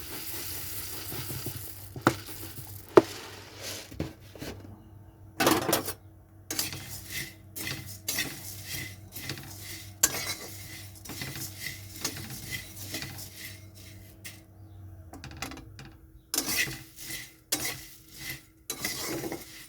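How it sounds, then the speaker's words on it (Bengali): Dry rattling and scraping as a spatula stirs puffed rice in a hot metal wok, with irregular clinks and pauses between strokes, close and fairly loud. "মুড়িটা একটু গরম করে নিচ্ছি কড়াইতে"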